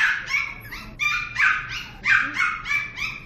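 Several newborn cloned puppies yip, bark and whimper close by in quick, high-pitched bursts, about six or seven short cries in a steady run.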